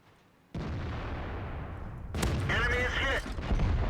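A single heavy cannon blast from a 59 Patton tank in World of Tanks booms out suddenly and rolls on as sustained rumble, with a second, sharper crack and ringing tail following near the end.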